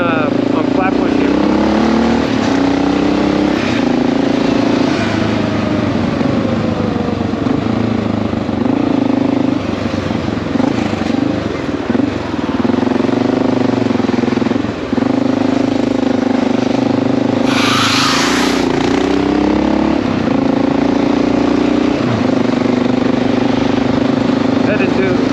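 Honda XR650L motorcycle engine droning steadily while riding through Brooklyn streets up Flatbush Avenue toward Prospect Park, a continuous loud rumble with shifting revs and a voice talking over it throughout.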